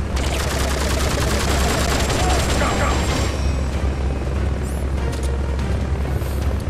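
A Hind helicopter boss battle in Metal Gear Solid: Peace Walker: a loud, steady rotor drone under bursts of gunfire and explosions, with rapid shots crowding the first half.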